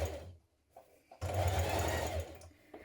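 A sewing machine stitches down a denim jean jacket piece with a short run of stitches, a pause, then a steady, close mechanical whir that slows and stops.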